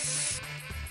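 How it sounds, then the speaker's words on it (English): A can of silver food spray hisses in one short, close burst onto a Ritter Sport chocolate bar, a brief airy spray that fades within a second. "Color it with silver food spray."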